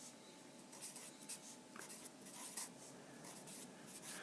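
Pen or pencil writing on paper, close and quiet, a steady run of soft scratchy strokes with brief pauses between marks while numbers are written out.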